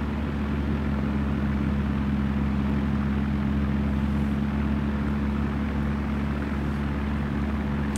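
An airplane cruises in Flight Sim World over the Grand Canyon, a constant loud engine drone with steady low harmonic hum and no breaks.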